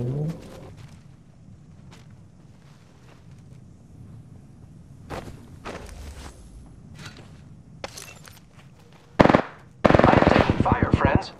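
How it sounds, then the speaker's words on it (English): Gunfire in the Apex Legends video game, with sparse scattered shots early on, then a loud burst near the end followed by sustained rapid automatic fire, heard alone without talk. "I'm taking fire, friends. Firing."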